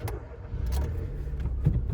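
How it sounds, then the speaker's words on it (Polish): A Nissan Micra K13 1.2 petrol engine cranks and catches, then settles into a low, steady idle nearby, all within a couple of seconds. "Odpalimy sobie samochód."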